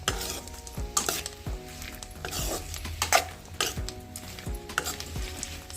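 Chana dal roasting in oil in a pan over a medium flame for capsicum chitranna, with a spoon scraping and clinking against the pan in irregular strokes over a soft, continuous sizzle, close up and without talk.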